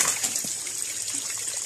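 Cold spring water trickles out from underground in a forest near a small cave, a steady close babble and splash with no pauses.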